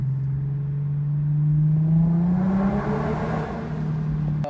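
Infiniti G37 exhaust with the muffler deleted, a loud, close engine note that rises smoothly as the car revs, then holds a steady raspy drone.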